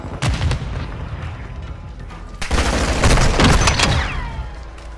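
Call of Duty Modern Warfare 2 team deathmatch combat: repeated sharp blasts and booming gunfire in two dense bursts, loud and close, with rumbling low-end impacts.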